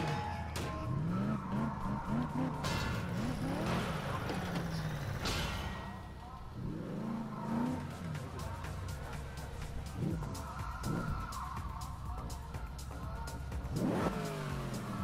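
Car engines revving hard with tires squealing and skidding in the racing game Need for Speed, loud and sustained with rising and falling pitch, while a voice talks over the engine noise.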